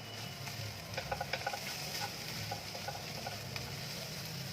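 Spice masala with salt frying in a pan for mutton keema paratha, giving a steady close sizzle with light scraping stirs and no voices.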